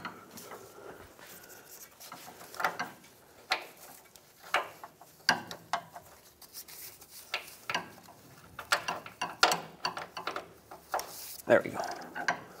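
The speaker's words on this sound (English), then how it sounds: "you'll need a swivel head long ratchet to get to it" A long swivel-head ratchet turns a tight 19 mm steering rack bolt on a 1996-2002 Toyota 4Runner, irregular bursts of quick ratcheting clicks between pauses, close by with muffled shop noise.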